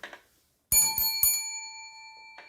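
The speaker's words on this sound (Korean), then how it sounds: "종소리 오랜만입니다" A bright metal bell, like a bicycle bell, rings twice in quick succession with a long shimmering ring-out, then gives a brief faint tap, after a short murmur of voice at the start.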